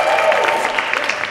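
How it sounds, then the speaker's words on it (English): Steady crackling applause from an audience, dense and continuous throughout with no pauses. "Round of applause. Give him a hand."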